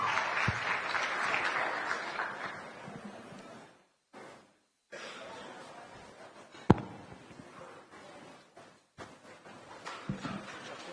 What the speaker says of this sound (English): Let's give them a round of applause as we take this short break with this entertainment.